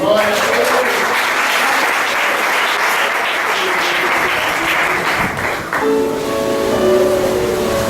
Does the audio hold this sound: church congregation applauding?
yes